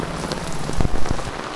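Steady rain patters on a hard surface close by, with a few louder drops splashing in a brief burst.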